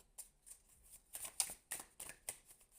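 Tarot cards shuffled for a reading, with quick soft riffling bursts in an uneven rhythm, close and quiet.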